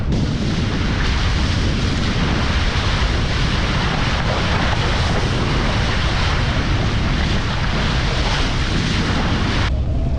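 Strong wind roars and buffets constantly across the deck of a sailboat underway with all sails up, loud and unbroken, with the microphone overwhelmed by gusts throughout.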